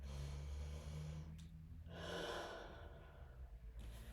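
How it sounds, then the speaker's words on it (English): During a yoga stretch against a wall for office stress, slow, soft breathing is heard at close range. A long airy exhale rises and fades in the middle over a faint steady low hum, and no one speaks. "But breathe at the same time, don't hold your breath."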